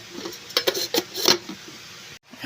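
Metal clinks and clatters as a lid goes onto a cooking pot of boiling sinigang na bangus, a few quick knocks then a settled clunk, close and moderately loud.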